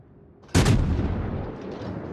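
A single heavy naval gun salvo from a warship in World of Warships, a sharp loud blast followed by a long rumbling decay.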